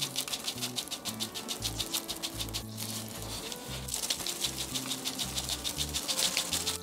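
Repeated hollow taps of a plastic plant pot being knocked to settle soil while repotting ivy (Hedera), a quick steady series of close, fairly loud knocks over rustling, with no talking.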